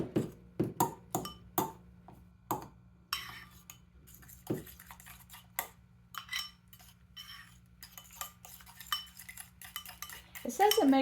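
Waffle batter for a cornbread chaffle is mixed with eggs in a bowl, with a utensil clinking and scraping against the dish in quick irregular taps, close and fairly faint.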